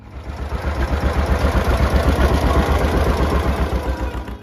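A John Deere Model A farm tractor engine runs steadily up close, a low, continuous rumble with a throbbing, pulsing rhythm and no talk.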